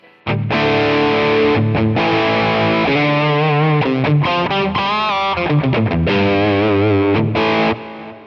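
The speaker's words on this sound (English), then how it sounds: "So let's say I put an obsessive drive in front of it." Electric guitar played through an Obsessive Drive overdrive pedal into an amp, loud and crunchy, with sustained distorted chords and short melodic runs, no talking.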